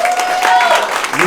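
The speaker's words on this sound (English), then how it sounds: "How about a round of applause?" Applause from a room of people at a meetup, steady clapping mixed with crowd murmur and a voice over it, fairly close and full.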